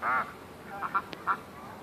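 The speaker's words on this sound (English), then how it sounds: "These ducks are very noisy today." Ducks on an icy lake quack in a few short nasal bursts, one near call followed by quieter scattered quacks, with faint wind and outdoor ambience behind.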